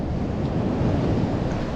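Steady ocean surf rolling onto a California beach, a continuous washing roar with wind buffeting the microphone and no voices.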